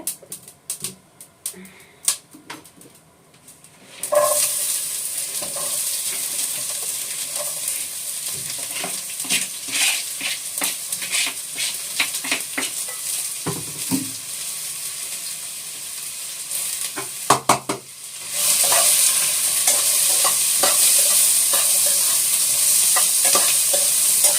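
Spices crackle and sputter in hot mustard oil for tempering, a steady close sizzle with sharp pops and stirring clatter, swelling to a louder, fuller hiss near the end.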